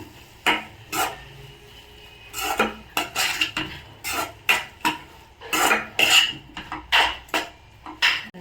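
Frozen peas being stirred into a potato curry in a pan, heard as irregular close scrapes and knocks of a spoon against metal, bursts of stirring separated by short pauses.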